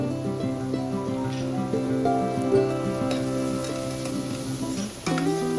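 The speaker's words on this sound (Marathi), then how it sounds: "वाटण चांगलं परतून घेऊया" A spice paste (vatan) for wedding-style masale bhat sautés in a pan, giving a steady, moderate sizzle that runs throughout beneath sustained background music.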